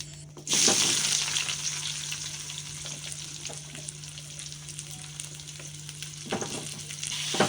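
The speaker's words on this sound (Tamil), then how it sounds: "வெங்காயம் வந்து கொஞ்சம் நேரம் நல்லா வதங்கட்டும்" Chopped onions frying with fennel seeds in oil and ghee for a chickpea gravy give a loud, continuous sizzle close by, with occasional stirring scrapes and a low steady hum beneath.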